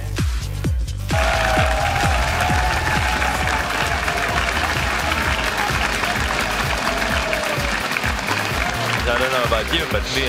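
A large crowd at a 2014 EU LCS League of Legends esports match claps and cheers loudly and continuously after a brief pause, the applause swelling into a sustained roar.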